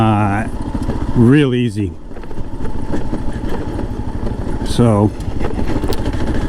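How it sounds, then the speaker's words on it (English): Kawasaki KLR650 dual-sport motorcycle riding on gravel, its engine droning steadily throughout with rising revs, heard close and continuous beneath someone talking. "with the KLR here in the gravel is, man, I hit that back brake and the tail of this bike will slide out"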